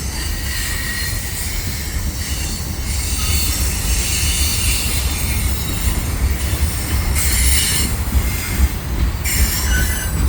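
A westbound CN freight train hauled by five engines rounds the Atwater curve near the Lachine Canal, wheels squealing loudly and steadily throughout over a continuous rumble of rolling cars.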